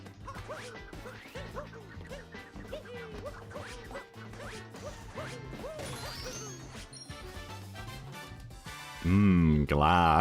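Glass picture frames shatter in Super Mario Odyssey, with repeated crashing smashes and breaking glass over busy game music and effects, ending in a louder burst of game sound.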